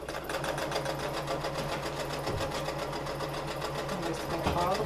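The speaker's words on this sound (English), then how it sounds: "So you still want to secure the stitch by back stitching." A sewing machine runs a straight stitch with back stitching along bias tape, a steady fast mechanical chatter held close and loud throughout with a couple of brief pauses in the rhythm.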